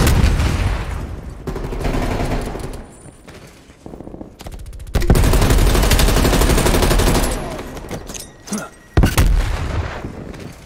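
A hostile sentry turret firing in Call of Duty Cold War, loud bursts of automatic gunfire in several stretches broken by short lulls, with a heavy impact near the end.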